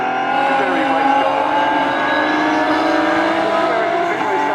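An Aston Martin Vulcan, an 820bhp hypercar, driven flat out, its engine giving a loud, sustained high-revving howl with rising and falling tones right up close, heard from inside the car.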